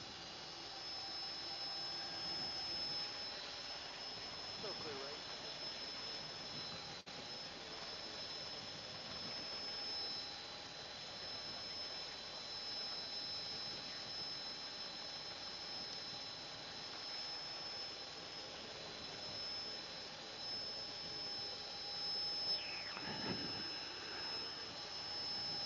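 Helicopter turbine engine in a flight simulator game, a faint steady whining drone with a constant high tone that runs throughout, with a couple of soft swishes and no speech.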